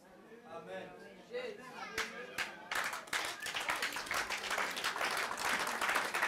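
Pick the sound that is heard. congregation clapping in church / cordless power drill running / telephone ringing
congregation clapping in church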